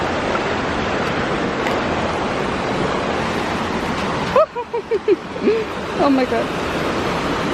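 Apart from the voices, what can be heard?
waterfall on a hiking trail in Pasadena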